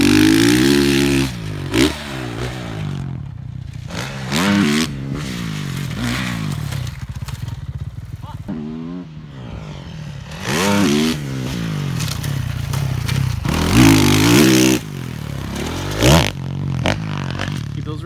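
Motocross dirt bike engine revving and accelerating on a supercross training track, rising and falling in repeated loud pulls with gear shifts, a few short bursts and longer sustained revs, with brief background voices between.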